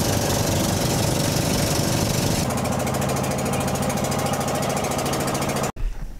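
A loud boat engine drones steadily up close with a rhythmic chug at Sohoton Cove in the Philippines, its tone shifting partway through before cutting off abruptly near the end.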